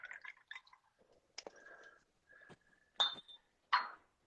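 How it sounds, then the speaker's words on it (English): A drink being poured into a glass, with short drips, splashes and light glassy clinks in separate bursts, close and fairly quiet, with no one talking. "I'm pouring some more right now."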